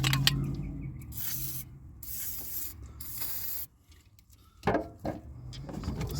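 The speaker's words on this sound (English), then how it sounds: "I do have some penetrating oil." Penetrating oil hisses out of an aerosol can in several close bursts of spraying while work goes on under the hood of a 2011 Chevy Camaro 6.2, followed by a pause and some faint handling clatter.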